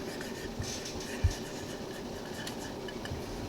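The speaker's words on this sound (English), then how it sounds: "I just write on the lid." A pen or marker writing on the metal lid of a cooled canning jar of homemade Concord grape juice, a faint scratchy scrawl with one brief tap, close and quiet with no talking.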